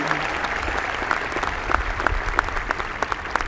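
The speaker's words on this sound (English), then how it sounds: "Please join me in applauding the efforts and accomplishments of these" Applause for graduating students at a high school graduation ceremony, a steady crowd clapping throughout with sharp individual claps standing out, moderately loud and continuous.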